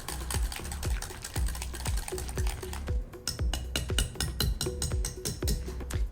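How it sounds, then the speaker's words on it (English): A whisk beats yogurt marinade in a bowl with quick, rhythmic clinking and scraping strokes, close and distinct, repeating at a brisk regular pace. "Whisking is very important."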